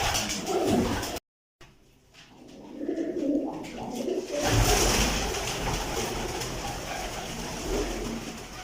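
Pigeon cooing in a loft among large breeding pigeons, soft coos repeating close by, broken by a short gap, with rustling and background noise.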